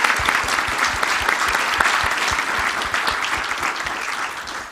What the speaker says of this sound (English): Please give a round of applause to Stephen.